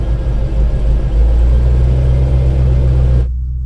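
A car engine idles in drive while a tow truck pulls it, giving a loud, steady low hum close by that drops away abruptly at the end.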